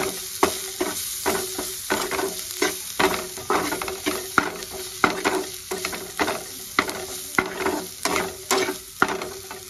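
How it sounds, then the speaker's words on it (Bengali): Spices such as chilli, coriander, cumin powder and turmeric being stirred into a paneer spring roll filling in a pan, with a steady run of scraping strokes and a soft sizzle underneath, close and fairly loud. "সব মশলাগুলো দিয়ে আমি একটু মিক্স করে নেব"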